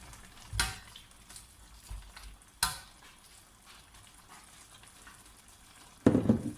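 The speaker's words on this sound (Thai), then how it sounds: "ผัดแครอทก่อนเพราะว่าแครอทจะสุกยาก" Carrots stir-fried in a pan give a low, quiet sizzle broken by a few sharp clatters of a utensil against the pan and a louder scraping stir at the end, with no talk.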